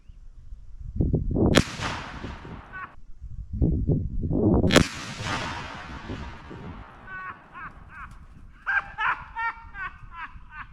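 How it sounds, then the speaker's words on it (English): Blackpowder rifle shots fired at a lettuce head outdoors on a hillside: two sharp loud cracks with booming decay, followed by fainter scattered clatter and ticking sounds. "we're gonna try our luck shooting at a cabbage, not a cabbage head, a lettuce head."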